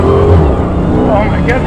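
A Dodge Charger Hellcat of about 500 horsepower, launched hard from a straight-wheel start, sends a loud, steady engine roar from inside the car as the rear wheels hold grip, with people talking over it.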